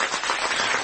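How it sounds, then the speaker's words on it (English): An audience claps in a steady, dense patter of many hands, a brief burst of applause at moderate loudness with no one speaking. "Why are they clapping?"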